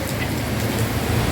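Steady heavy rain pours down in Hong Kong during a Signal 8 typhoon, a dense continuous hiss with low rumbling underneath and no talking.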